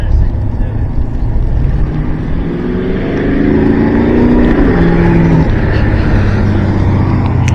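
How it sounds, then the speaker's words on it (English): A classic car at a car meet accelerates, its engine rising in a loud sustained rev that climbs in pitch and then settles, heard over steady background noise with voices nearby. "He's hitting the gas."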